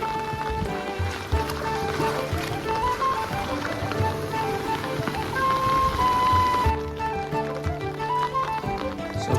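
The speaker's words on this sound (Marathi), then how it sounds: "पाऊस दिवस आलाय, एवढा पाऊस झालाय" Heavy monsoon rain falls in a village, a dense, continuous hiss and patter close by, with a faint musical tone running beneath.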